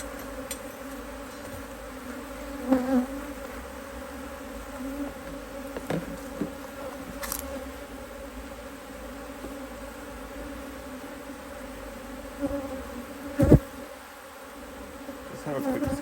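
Honey bees humming softly in an opened hive during inspection, a faint steady buzz with occasional nearby bees droning past, punctuated by a few clicks and knocks from handling the frames.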